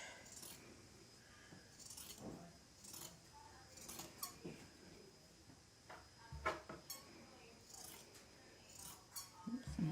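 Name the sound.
fabric scissors cutting fringe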